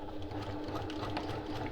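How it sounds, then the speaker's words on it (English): Steady electric sewing machine stitching a French-seamed boxed zipper pouch at a 1 cm seam allowance, a continuous close motor whir with a rapid needle rhythm and no talk. "Now we're going to be sewing this again using the same seam allowance, so 1 centimetre or 3/8 of an inch."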